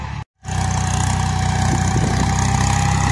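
A tractor pulling a seed drill on a farm chugs steadily at close range after a brief cut, its low rhythmic engine rumble continuous and unchanging.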